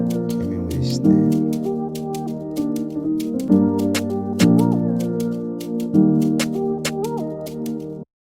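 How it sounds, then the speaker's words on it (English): Snare hits from a sample in a modern Afrobeat beat crack at intervals over a full mix of shaker, bass and synth chords with gliding melodic notes, loud and continuous until an abrupt stop. "Came in with this snare."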